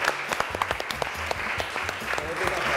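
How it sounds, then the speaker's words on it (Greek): Studio audience applause on a cooking show set, a dense spread of close, sharp claps forming a steady rattle that swells slightly toward the end. "Θα οργανώσω το κοινό να σας δώσει ένα χειροκρότημα."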